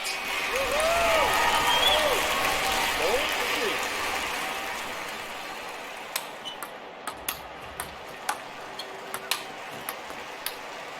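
Crowd applause and cheering swell loudly in a tennis match within an Olympic Games video game, fading into a steady run of sharp ball hits and ticking clicks as play resumes.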